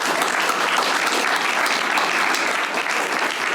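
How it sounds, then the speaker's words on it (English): An audience at a community forum on gun violence gives its panelists a steady, dense round of applause, many hands clapping close together at a constant level throughout with no talking. "Let's have a round of applause for our panelists"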